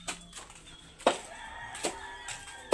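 A few sharp chicken clucks on a farm at irregular intervals, close and fairly loud, with quiet gaps between calls.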